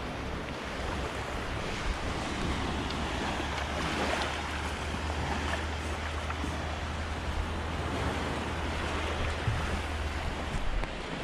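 Surf washes continuously onto a quiet beach in Grand Cayman under a rainy sky at the start of hurricane season, a broad, steady roar mixed with gusty wind buffeting the microphone.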